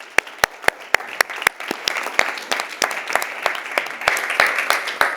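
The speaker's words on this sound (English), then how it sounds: "Your applause, please, for Bruno Silva-Santos." Audience at a health research meeting applauds a guest speaker, with a run of sharp, close claps at first that swell into fuller, continuous clapping from the crowd.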